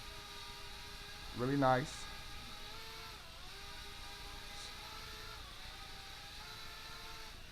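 Motors of a Goolsky FQ17W mini foldable quadcopter drone spin up with a thin, steady electric whine that wavers slightly in pitch, heard faintly with a short spoken comment over it early on.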